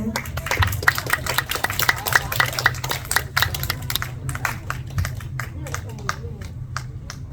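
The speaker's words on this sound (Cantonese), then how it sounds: "繼續你哋嘅掌聲" Audience clapping at a Lunar New Year village gathering after a live performance of a Cantonese song, a steady patter of many hands that thins out toward the end, with a low hum of crowd noise underneath.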